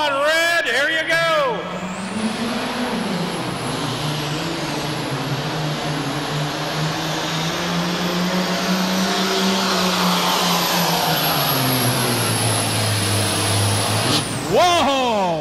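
A farm tractor roars down the track at a super farm tractor pull in Louisville, its engine a loud, sustained throaty drone with a high whine over it. It builds after a brief start and cuts off near the end, with crowd noise beneath.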